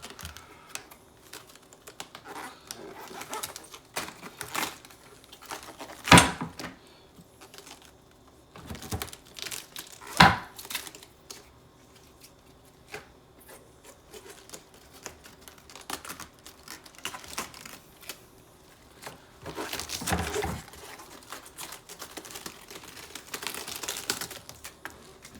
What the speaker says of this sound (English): I'm gonna get a couple of these nice outer leaves